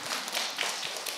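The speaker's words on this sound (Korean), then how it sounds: "박수" A small audience at a church lecture breaks into applause, a brief burst of dense, steady clapping heard up close and filling the whole moment.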